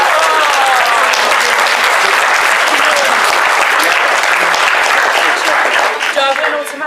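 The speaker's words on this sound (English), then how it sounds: "Give them a round of applause." A comedy improv show audience bursts into loud, dense applause that carries on steadily close by and tapers off at the very end.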